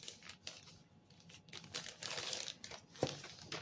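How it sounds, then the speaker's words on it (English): Gift wrapping paper being handled and taped in the middle, with steady crinkling and rustling of the paper throughout and a sharper snap of tape near the end. "And I'm going to just tape it right in the middle."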